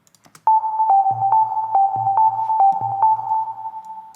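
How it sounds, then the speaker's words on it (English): Bleepy techno synthesizer tones from a quantizer in a steady pulsing pattern, a sustained electronic beep stepping between pitches over a low thumping pulse. "as you can hear, we have already some"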